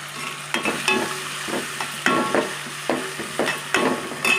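Plenty of ginger and garlic sizzles in a hot pan for an onion curry, stirred with rhythmic, close scraping strokes over a steady frying hiss, with no talking.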